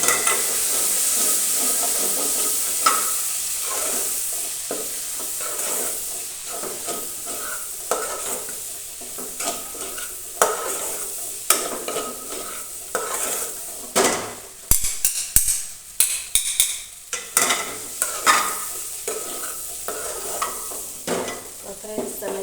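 A spoon stirs turmeric, coriander-cumin powder and red chilli powder into a sizzling pan of dry val bean curry, scraping and clinking against the pot in an irregular rhythm over a steady frying hiss, close by, with no talk.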